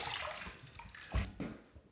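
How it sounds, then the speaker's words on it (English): Brief splash of water rinsing a razor, a couple of short close gushes and drips over about two seconds, with no talking. "Let's rinse."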